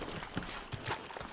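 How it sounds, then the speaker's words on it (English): Horse hooves clopping in Red Dead Redemption II as the rider slows and stops the horse by a river, a few soft, spaced hoof thuds over steady outdoor ambience. "Let's just park my horse here"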